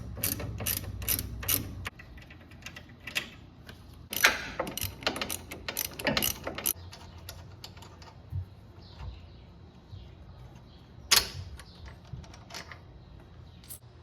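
A hand ratchet clicks in quick bursts while loosening nuts on a car's sway bar end link, with pauses and some metallic knocks between runs of close, sharp ratcheting.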